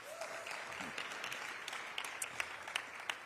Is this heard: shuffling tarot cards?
no